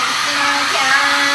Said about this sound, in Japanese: ほんまは部屋でドライヤーしてくんだけどな